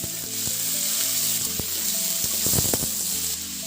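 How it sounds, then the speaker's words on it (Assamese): Onion and chopped vegetables hit hot oil in a pan and crackle with a bright, continuous sizzle, close and fairly loud, with scattered pops and clinks of stirring. "এইখিনি তেলতে মই পিঁয়াজ দি দিছোঁ। কাটি থোৱা চব্জিখিনি দি দিছোঁ।"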